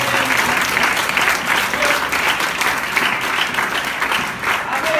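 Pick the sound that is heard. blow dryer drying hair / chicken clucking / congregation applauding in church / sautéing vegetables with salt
congregation applauding in church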